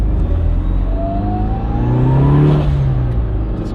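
A built 500-horsepower Mitsubishi Lancer Evo with a 34 psi boosted E85 engine drives off, its note climbing steadily as it revs up close, then easing back.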